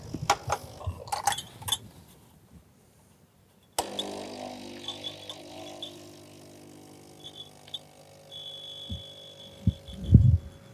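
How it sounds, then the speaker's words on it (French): A Solis Barista Perfetta bean-to-cup coffee machine pulls two espressos: after some clinks and a pause, the pump starts with a sudden steady, throbbing hum that runs on under faint rattles, ending in a few louder low thumps. "Et donc, on va démarrer l'expresso. L'extraction de deux expressos."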